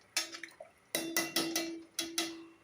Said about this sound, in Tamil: இப்போ நல்லா தண்ணி நல்லா கொதிக்குதுங்க